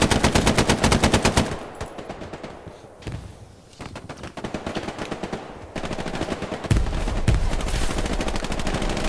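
Machine gun fire in the video game Hell Let Loose, rapid loud bursts of automatic shots at the start, then quieter gunfire and thuds continuing, with heavy sustained firing resuming near the end.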